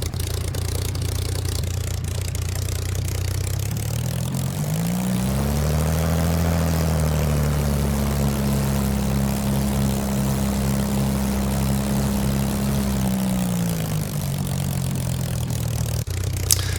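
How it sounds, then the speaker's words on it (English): Simulated Supermarine Spitfire piston engine in a flight sim at Shoreham airport, a loud steady drone throughout with harmonic tones rising in pitch as power increases mid-clip, holding, then easing back near the end. "what could be better than to do this flight in a beautiful Spitfire"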